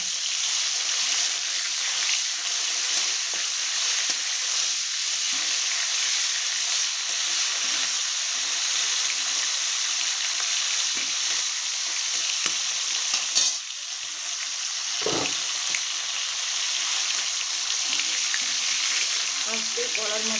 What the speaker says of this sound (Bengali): মাথা আমার একটু ভাজা হয়েছে,